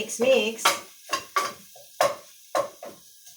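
Squid adobo being stirred in a Saladmaster pot, a series of about six distinct scraping, clattering strokes of a utensil against the pan with faint sizzling between them.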